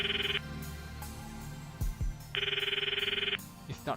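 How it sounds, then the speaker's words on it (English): A phone ringtone from the Steins;Gate visual novel plays as two bright electronic ringing bursts with a pause between them. Soft thumps and a short rising sound are mixed in, and no one speaks. "The ringtone echoes in my ears."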